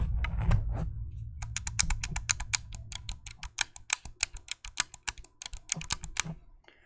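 The face buttons of a GameSir controller, a T4 Kaleid or G7 SE, are pressed in rapid, irregular bursts of crisp, close clicks, like fast typing, with a low rumble at the start.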